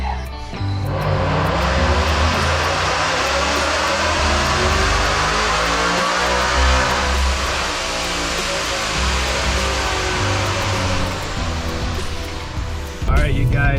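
Supercharged Ford Mustang engine on a chassis dyno during a full pull, a loud, steady, dense roar that holds for about twelve seconds before cutting off sharply near the end.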